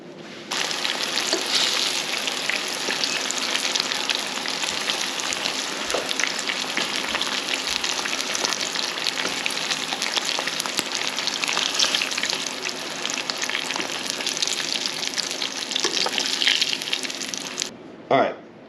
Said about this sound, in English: dump your fish in, shake it up, and then throw it in the grease